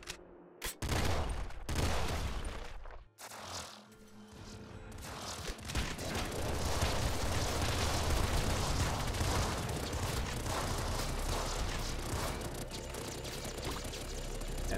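Assault rifle fire in the video game Nuclear Throne, with the Ultra Mod: scattered shots and clanks at first, then a dense, sustained barrage of rapid gunfire and explosions that keeps going to the end.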